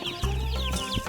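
A flock of chickens on a small Canadian homestead clucks close by, several birds overlapping in short busy calls over one brief moment with no talking.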